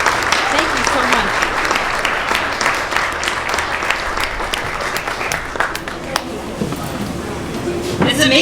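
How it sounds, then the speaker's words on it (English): An audience at a storytelling event claps loudly and continuously for a performer, dense applause close by that thins slightly toward the end, with some voices mixed in. "Can we have another round of applause for Audrey, please?"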